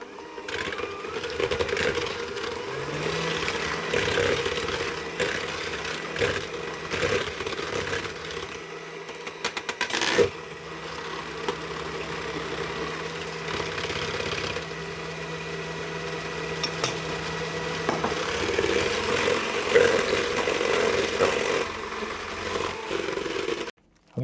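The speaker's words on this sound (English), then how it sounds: "using the beaters of my hand mixer, I'm going to mix those together" An electric hand mixer whirs steadily while its beaters mix cake batter for a chocolate banana loaf, with melted butter added, a continuous motor drone with brief pauses and knocks over about twenty seconds.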